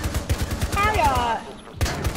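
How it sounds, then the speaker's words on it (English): Rapid video game gunfire rattles in repeated bursts, with a whining, warbling tone rising over the shots partway through before the firing resumes. "Too much gunfire was going on."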